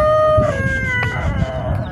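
A rooster crows loudly and close by at a livestock market in eastern Syria, with a long harmonic call sounding over a rough, busy background of crowd noise.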